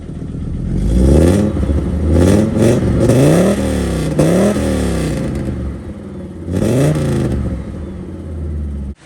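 Audi Coupe GT fitted with a full stainless Infinity exhaust revving hard, several rising and falling throttle blips in close succession, loud and near with no talking.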